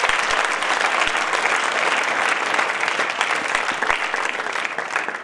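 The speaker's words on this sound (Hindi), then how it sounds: "सब लोग अपन मिलकर जोरदार तालियों से उनका स्वागत करें" A crowd claps warmly at a school award ceremony, sustained dense applause filling the hall, loud and close, tapering slightly at the end.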